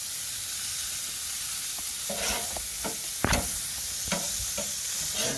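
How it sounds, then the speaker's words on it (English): Burgers sizzle steadily on a grill cranked to 475 degrees, while several sharp scraping knocks mark the spatula flipping them; no voices. "So let's give these burgers a flip."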